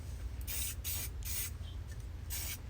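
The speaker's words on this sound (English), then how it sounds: "And some matte black spray paint." Matte black spray paint hissing from an aerosol can in four or five short, sharp bursts with brief pauses between them, close up over a low steady background rumble, with nobody talking.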